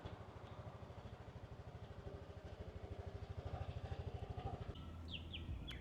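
A 2016 Honda Forza 300 scooter putters along with a quiet, steady, low engine pulse, and faint bird chirps come in near the end.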